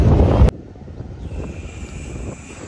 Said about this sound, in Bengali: সো গাইস আজকে দেখতে পাচ্ছেন প্রচণ্ড বাতাস।